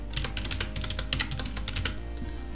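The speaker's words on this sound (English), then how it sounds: "grab my text tool and type in" Rapid, uneven keystrokes on a computer keyboard, a steady run of close clicks over a low background hum, typed while entering text in graphics software.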